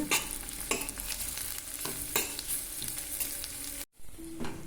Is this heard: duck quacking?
no